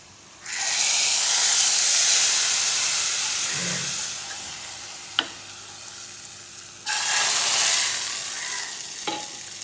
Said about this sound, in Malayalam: ഇത്തിരി മഞ്ഞൾപ്പൊടിയും എല്ലാം കൂടി കറിയിലോട്ട് ഒഴിച്ചു കൊടുക്കണം